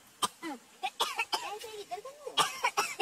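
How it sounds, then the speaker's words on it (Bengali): Several sharp coughs from a nearby person in the Darjeeling hills, interspersed with bits of speech and throat sounds. "এর মধ্যে আমার কাশি শুরু হয়ে গেছে"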